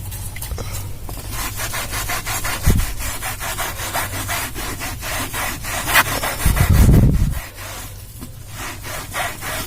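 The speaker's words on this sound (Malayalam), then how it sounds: "ഇനി നമുക്ക് സൊല്യൂഷനിലേക്ക് ആ ടവൽ മുക്കി നമുക്ക് തുടച്ചു കൊടുക്കാം." A towel dipped in shampoo solution is rubbed repeatedly across a car seat, making a steady rhythmic scrubbing with a few heavier thumps, close and loud, with no voices.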